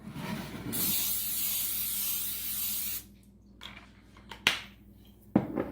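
A steady hissing spray from an aerosol can of cooking spray onto a baking sheet lasts a couple of seconds, followed by a few light clicks and taps nearby.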